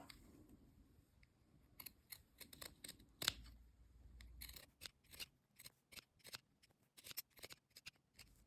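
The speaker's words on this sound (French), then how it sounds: "si vous avez des ciseaux cranteurs, vous pouvez les utiliser et cranter" Pinking shears snip repeatedly in short, crisp cuts, notching a fabric collar, close and quiet, with soft fabric rustling between the cuts.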